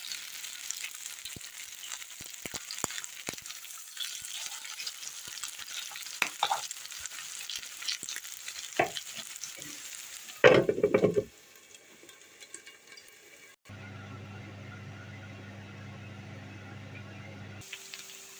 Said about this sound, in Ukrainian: я смажу на невеличкому вогні і накриваю кришкою, щоб пропускувалася картопелька